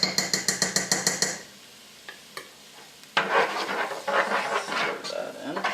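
A spoon stirs tomato paste into turkey chili, first in a quick run of about ten sharp, evenly spaced scraping knocks against the pot, then after a pause as a thicker, continuous wet stirring with faint sizzle; no one speaks.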